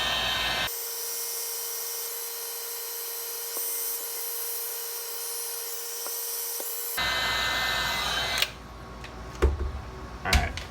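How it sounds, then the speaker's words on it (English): A cordless heat gun used on a brand-new in-tank fuel pump sending unit, a steady fan-driven whoosh with a faint whine that runs for several seconds and then cuts off, followed by a few light handling knocks. "heat gun, pretty nice to have"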